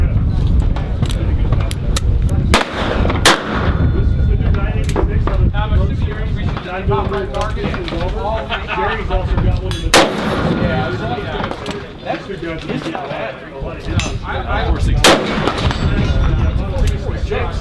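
A Smith & Wesson 460 XVR revolver fires a handful of loud, sharp, widely spaced shots at an outdoor range, under wind noise and people talking.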